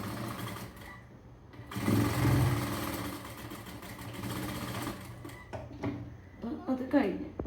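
A sewing machine stitches the seams of a straight pant with an elastic waist, running in bursts with short pauses and a steady motor whir at close range, under a person talking.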